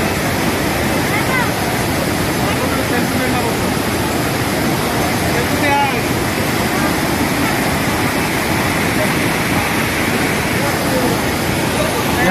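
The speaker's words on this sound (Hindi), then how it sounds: "यहाँ पे पानी का कितना आवाज आ रहा है देख रहे हो" Loud, roaring water at Panchalingeswar waterfall in Balasore, a steady, dense rush of falling water that fills the whole scene without pause.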